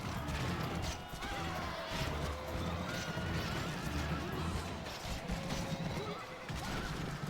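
A horse neighs amid the steady, dense roar of a video game cavalry charge in ancient Rhodes, with clattering hooves and battle noise filling the scene continuously at high level.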